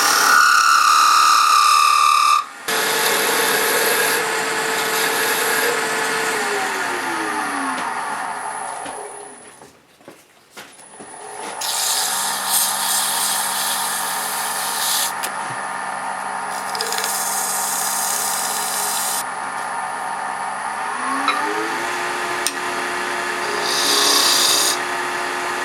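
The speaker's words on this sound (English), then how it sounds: "I'm actually going to try to use my gouge left-handed" A woodturning gouge cuts spinning wood on a lathe, giving a loud, continuous rasping shear under the motor's steady hum, with a short break midway before the cutting resumes.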